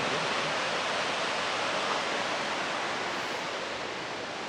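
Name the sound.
Sol Duc Falls waterfall, Olympic National Park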